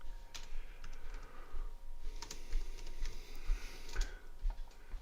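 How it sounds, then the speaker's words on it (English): Fast, irregular clicking of keys on a computer keyboard, fairly close but quiet, continuing without pause against light room noise. "Let me just see if I can get my keyboard."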